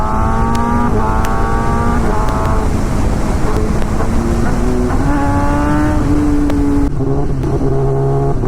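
A Kawasaki ZX-10R inline-four superbike at full power, loud and close with a high rising engine howl through repeated gear changes and steady wind rush.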